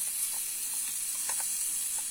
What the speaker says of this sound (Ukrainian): Сальця з цибулькою ось шкварчить